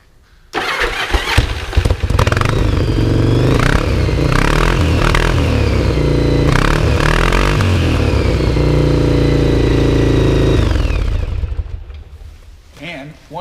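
A 1983 Yamaha Virago motorcycle with a baffle-deleted exhaust starts up loud and close, settling into a raw, throaty idle with several sharp revs before shutting off near the end.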